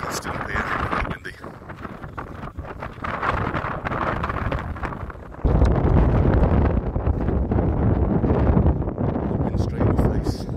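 Strong wind buffeting the microphone on an exposed mountain summit near Caleta de Fuste, Fuerteventura, a constant low roar that grows louder and heavier halfway through, with faint talk underneath.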